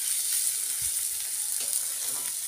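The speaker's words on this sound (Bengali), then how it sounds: "এই যে ভাজছি দেখো" Raw rice grains dry-frying in a pan for muri ghanto, a bright continuous hiss and sizzle close by with a few faint stirring knocks, no voices.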